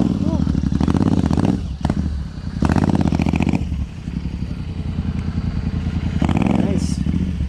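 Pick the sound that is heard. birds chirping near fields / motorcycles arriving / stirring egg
motorcycles arriving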